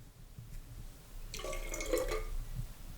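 A shot of diluted juice poured out of a shot glass, a short splashy trickle of liquid lasting under a second midway through, over quiet room background.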